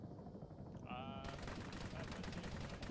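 Small arms gunfire rattles close by in a military video game, a dense continuous crackle of shots that grows sharper partway through under a steady background roar.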